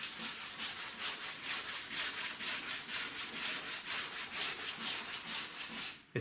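Someone hand-sands primer on the bodywork of an Austin Mini, making a close, steady back-and-forth scratching in an even rhythm of quick strokes that stops suddenly at the end.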